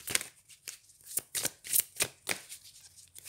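Tarot cards are shuffled and handled for a chakra spread: a close run of crisp, papery riffles and slaps in quick bursts, with no voice.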